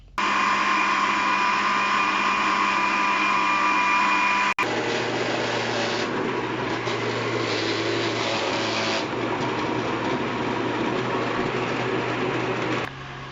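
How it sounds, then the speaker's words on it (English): Apples for home-brew scrumpy cider whirring in a cheap, underpowered kitchen blender, a loud steady motor drone that changes pitch and load partway through as the fruit breaks down, then cuts off near the end. "We've got a really rubbish blender, so I'm going to chop them up first, then I'm going to blend them"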